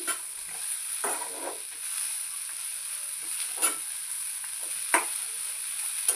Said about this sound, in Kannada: ಫಸ್ಟು ಮೀಡಿಯಮ್ ಫ್ಲೇಮ್ ಮೇಲೆ ಇಟ್ಕೊಂಡು ಹುರ್ಕೊಂಡ್ರೆ ಸ್ವಲ್ಪ ಎಲ್ಲ ಬಿ ಚಂದ ಫ್ರೈ ಆಯ್ತವಲ್ಲ